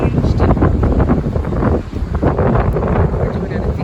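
Strong coastal wind at Pismo Beach, California, buffets the microphone in a loud, steady roar that lasts the whole stretch, with only a brief lull just before the midpoint.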